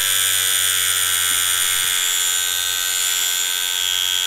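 Ambition Torped rotary tattoo machine running with a magnet, a steady high-pitched electric buzz and hum that holds at an even level throughout, close and loud with no voices.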